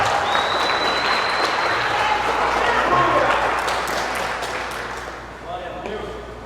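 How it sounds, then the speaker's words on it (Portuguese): A church congregation claps and cheers steadily during a sermon, the applause gradually fading toward the end with faint voices underneath. "pode dar uma salva de palmas ao Senhor"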